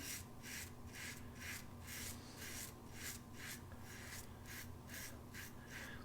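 A razor scrapes across facial hair during a beard and mustache cleanup shave, a close, soft raspy stroke repeated in a steady rhythm about twice per second without any talking.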